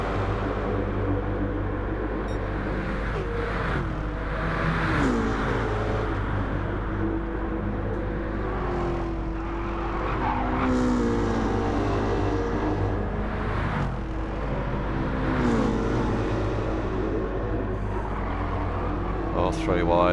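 V8 Supercars race in Gran Turismo 7, with dense, steady engine roar from a close pack running three-wide onto a bridge. A commentator talks throughout over the continuous, loud engine noise.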